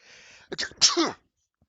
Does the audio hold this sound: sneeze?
yes